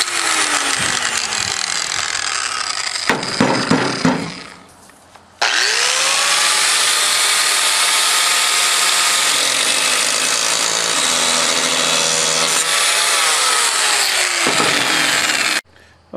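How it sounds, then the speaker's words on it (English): A power tool grinds a metal wheel cylinder part held in a vise, with a loud, sustained, close whine that stops briefly, then restarts and runs steadily before cutting off. "I'm going to grind that in there."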